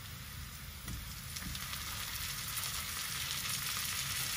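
Marinated lamb belly, soaked overnight in soy sauce and lemon, sizzles and fries steadily in a hot pan, a continuous close crackle that grows slightly louder after it goes in.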